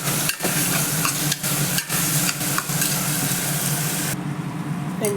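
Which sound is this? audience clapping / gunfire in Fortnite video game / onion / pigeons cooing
onion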